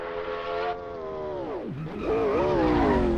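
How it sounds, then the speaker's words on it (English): A McLaren P1 hypercar, 903 horsepower, in a racing video game: a loud revving engine holds steady, drops sharply as the car lifts off, then climbs again to a high, strained whine. "This time I'm doing the McLaren P1, which almost ended up being a modern death machine"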